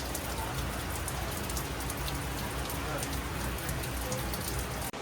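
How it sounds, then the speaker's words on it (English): Rain pours steadily onto a campground awning in Key West, Florida, a dense, even patter close overhead that never lets up. "We're stuck underneath our awning in the rain in Key West, Florida."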